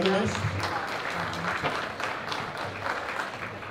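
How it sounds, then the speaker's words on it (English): An audience at a school campus event on a touring program gives a round of applause, a dense steady patter of many hands at moderate level, with a voice briefly heard at the start. "So maybe a round of applause for Holderness."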